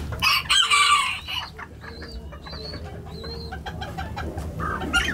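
Serama chickens cluck softly at close range while a rooster crows in short repeated calls, with other birds and farmyard noise around them.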